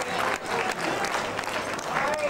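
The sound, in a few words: applause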